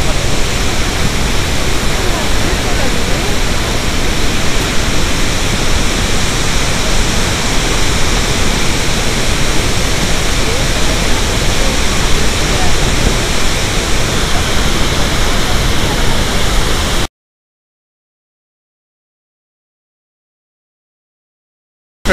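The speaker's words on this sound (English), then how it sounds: "Different view of the falls." Iguazu Falls at the Garganta del Diablo in Argentina, a massive waterfall giving a loud, unbroken roar of rushing water that stays constant for about seventeen seconds before stopping suddenly.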